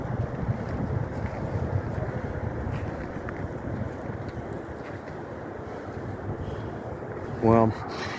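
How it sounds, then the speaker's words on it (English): Gusty wind blows steadily outdoors beside railway tracks near an abandoned spur bridge after rain, a dense low rumble buffeting the microphone throughout, with a brief tonal sound near the end. "it is windy out"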